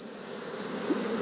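A close, continuous buzz of Buckfast honey bees drones steadily for a moment, as if the bees are hovering near the microphone.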